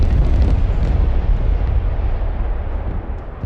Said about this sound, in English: Oh no, it's not a nuke. It's the carpet bomb.